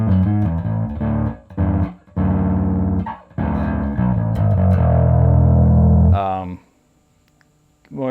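Electric guitar played through an EarthQuaker Devices distortion pedal, chunky fuzzy chords in short bursts with brief gaps, then a final strum that rings out and cuts to near silence.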